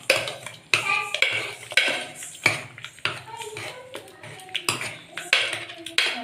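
Cooked banana stem being mashed with a ladle inside a pressure cooker, giving repeated close metallic scrapes and taps against the pot in an irregular rhythm with brief pauses.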